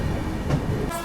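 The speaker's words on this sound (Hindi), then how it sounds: "बगल से देखो कोई ट्रेन आ रही है, कर्नाटका संपर्क क्रांति एक्सप्रेस।" The Karnataka Sampark Kranti Express rushes by on the adjacent track near Palwal, a brief, loud, continuous rumble of wheels with a faint high hiss toward the end.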